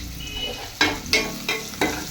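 Onions fry in a pan for chappal pulusu, a steady sizzle broken by four regular scraping stirs of a spoon, close and alone.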